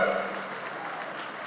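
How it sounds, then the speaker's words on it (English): A fire school opening ceremony crowd claps and cheers in a broad, diffuse wash of applause, loudest at the start and tapering a little over a second and a half. "Give yourselves applause!"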